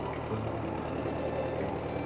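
An old tractor engine running on a farm, a steady close rattling chug with an even rhythm, continuous and fairly loud, with no voices.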